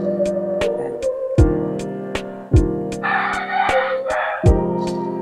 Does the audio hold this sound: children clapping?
no